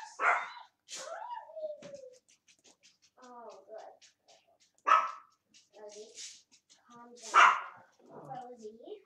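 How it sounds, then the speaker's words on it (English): A house dog barks repeatedly indoors in a home-office setting, sharp close barks and yips arriving in bursts with whimpering between them, while a person talks over and around the noise. "That dog just does not stop barking"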